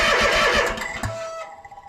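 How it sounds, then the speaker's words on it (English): A Toro Z Master zero-turn mower engine with a fuel problem cranks over, a loud, dense mechanical churn for about a second and a half that then drops off into a quieter tail. "I'm going to just turn the engine over here real quick."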